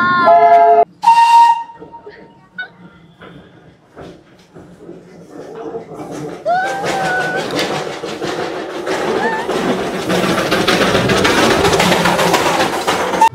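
A Darjeeling train whistle blows near a hotel, with steam: short, loud whistle tones at the start, then a steady hiss and rumble that build under a crowd of voices talking.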